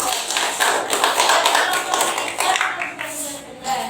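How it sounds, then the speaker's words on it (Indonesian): A classroom applauds a group presentation, with a short burst of hand clapping from several people lasting a few seconds, fairly close. "Tepuk tangan untuk kelompok 3"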